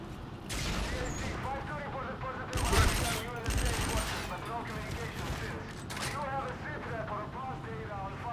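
Dense gunfire in the video game Call of Duty Infinite Warfare, rapid bursts with a louder flurry midway, rattling steadily under busy game sound.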